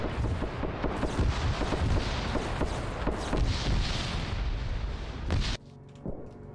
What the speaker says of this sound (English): He hears the gunfire.